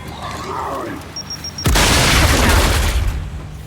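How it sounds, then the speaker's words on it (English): A thrown grenade in the video game Gears of War 5 goes off with a sudden loud boom, preceded by a few short beeps and faint game noise, then a rumbling roar that lingers and slowly fades. "Throwing grenade!"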